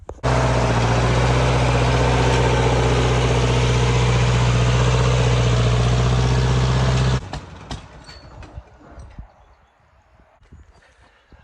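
A Massey Ferguson 35 tractor engine runs loud and steady close by with a deep, rhythmic low-end chug for about seven seconds, then shuts off, leaving faint scattered noises and quiet.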